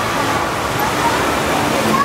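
Running water flows steadily like a small indoor waterfall or fountain, a continuous broadband rush under a faint murmur of people in the background.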